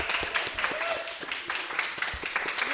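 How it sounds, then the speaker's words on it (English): Steady applause from an audience at a live show, dense overlapping clapping throughout the short stretch, with voices faintly underneath. "feel like I should join in clapping as well"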